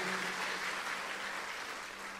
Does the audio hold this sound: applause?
yes